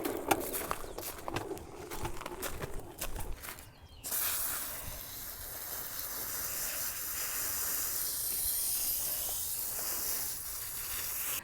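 A garden hose multi-sprayer hisses out water in a steady, soft spray after a few seconds of rustling and handling, continuing evenly to the end.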